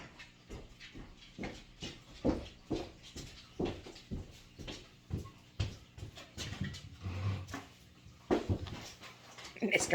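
A dog at a door wanting to be let in makes a run of short, rhythmic scratching or panting bursts, fairly close, with a faint whimper and soft clatter mixed in over a quiet room.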